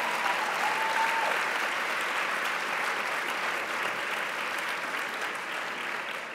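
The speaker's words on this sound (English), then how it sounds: "let's give a round of applause for this great band" An audience at a technology awards ceremony applauds a live band with dense, sustained clapping that fills the room at an even, loud level and fades slightly toward the end.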